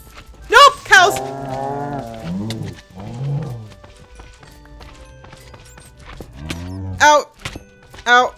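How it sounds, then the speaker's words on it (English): Cows moo several times in Minecraft, drawn-out bovine calls near and loud, with a few thunks and short game sounds between them and no talking. "Nope, cows."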